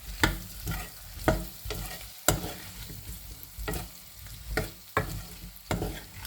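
Red chili powder, turmeric, coriander-cumin and garam masala fry in a pan while being stirred, giving a continuous sizzle broken by repeated scraping stirs at an uneven pace, close up and with no talking.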